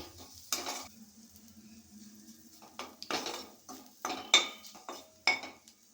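Spiced cauliflower fry mixture being tossed in a pan: intermittent metallic scrapes and clinks of a spoon against the pan, with soft sizzling between a handful of sharper strikes.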